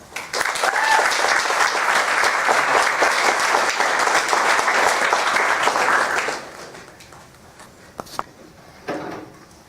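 Audience applause welcomes two speakers at a talk event, loud dense clapping that holds steady for about six seconds and then fades into scattered claps and room noise.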